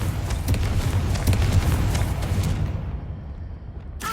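A Confringo spell explosion in Hogwarts Legacy makes a broad, rumbling blast that roars for a few seconds, then quickly fades into near quiet.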